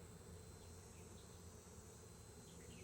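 Honey bees buzz around an open hive frame in a dense, steady swarm hum that stays even and close throughout, with no voices.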